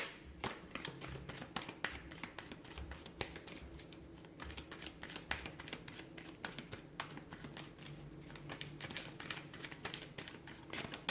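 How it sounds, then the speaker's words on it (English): Tarot cards being shuffled, a dense stream of soft riffling clicks and paper flutters running steadily throughout at close range, with a low hum underneath. "give the cards a shuffle"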